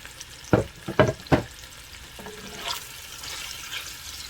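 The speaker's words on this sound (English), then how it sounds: "Now it's nice and hot and sizzling. We're going to add our chopped up pork tenderloin." Three sharp bursts of sizzling as chopped pork tenderloin hits a hot pot, then a quieter, steady frying hiss with light stirring.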